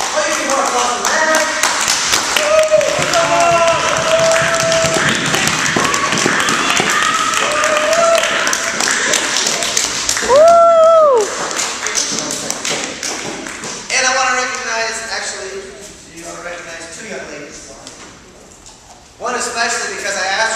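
Clapping from a kung fu demonstration crowd rolls on for a long stretch, mixed with voices and a few tonal whoops, then thins and dips near the end before picking up again.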